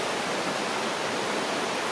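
Sweden's highest waterfall thunders nearby in a constant, broadband rush of pouring water, unbroken and alone.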